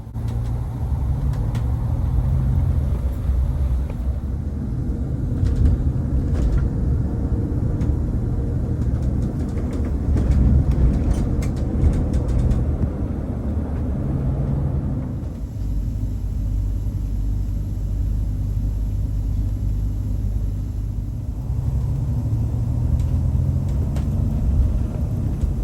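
A brand-new Caetano Levante 3 coach on a National Express service cruises along the M1 motorway near Leeds, giving a steady, loud low engine and road rumble with tyre noise that continues without a break and no talking.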